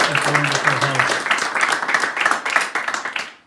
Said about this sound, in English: Let's give them a round of applause for being a wonderful host.